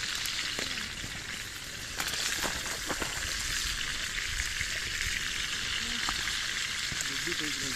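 Pork ribs and onion sizzle steadily in a frying pan outdoors, a dense continuous crackle with occasional sharper pops and light clinks, close and fairly loud throughout.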